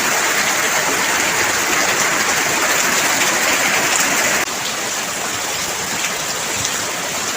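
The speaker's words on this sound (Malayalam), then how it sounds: "മഴ കുറച്ച് തോർന്നിട്ടുണ്ട് ഇപ്പോൾ." Heavy rain pours steadily with a dense, close roar of drops and running water, easing slightly partway through; no thunder is evident.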